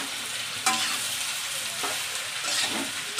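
Soaked soybean chunks frying in a pan, a steady bright sizzle throughout with a couple of sharp spatula knocks and scrapes, close and fairly loud, no talking.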